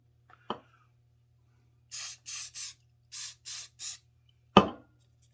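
Glue activator is sprayed over super glue on a wooden ant model in six short hissing puffs from an aerosol can, with a light tap of handling before and a louder knock after, close and quiet overall.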